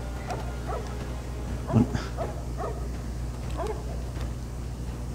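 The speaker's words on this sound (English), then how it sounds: "Okay, the dog has joined the party now." A dog in the Lego Pirates of the Caribbean video game gives a few faint yips and barks over a steady background hum, with a brief spoken word.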